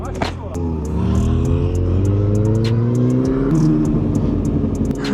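A new Yamaha R7 motorcycle, warmed up and fitted with a homologated exhaust baffle, idles and revs steadily close by, its engine note rising and falling under continuous conversation.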